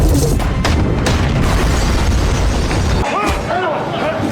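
A loud, rumbling explosion blast with dense low booming that stays heavy throughout, thinning briefly toward the end as a voice speaks.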